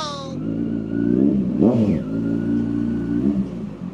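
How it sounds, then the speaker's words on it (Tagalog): In slow traffic on the road to Tagaytay, a nearby car or motorcycle engine revs up and rises in pitch for a moment. It then drops back to a steady idle under continuous road noise, heard from a motorcycle. "Pero kahit na nakamotor, talagang ipit din tayo ng traffic."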